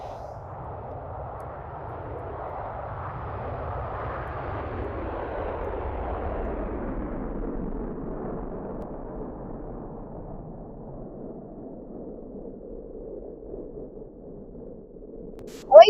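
A military aircraft flies over the White House during an air show, its engine roar slowly swelling and fading as a long, distant rumbling pass, ending with a brief sharp noise.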